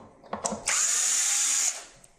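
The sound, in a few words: screw gun in reverse removing screws from drywall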